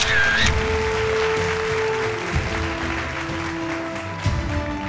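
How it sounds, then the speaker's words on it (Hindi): An audience applauds at a business awards event on a televised stage in Rajasthan, a steady, full wash of clapping that runs throughout, with sustained musical tones beneath it. "उनकी कंट्रीब्यूशन के लिए एक बार जोरदार तालियां।"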